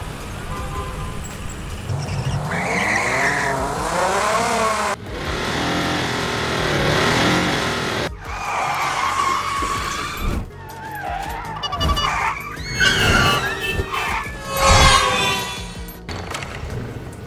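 Designed car sound effects for a realistic Mario scene: a series of engine revs, whooshing passes and tire skids in separate bursts, loud and close, with shifting pitch sweeps.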